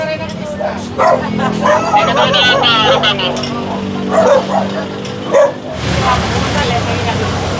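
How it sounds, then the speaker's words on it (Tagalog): A small dog yips and barks several times amid street noise, while people talk nearby. "Cute ng aso."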